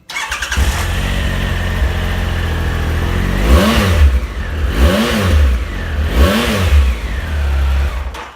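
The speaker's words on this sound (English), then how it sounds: "Give it a quick fire up." A 2015 Triumph Explorer 1200 XC motorcycle with about 12,500 miles fires up and settles into a loud, steady idle close by, then gets three sharp throttle blips that rise and fall in quick succession.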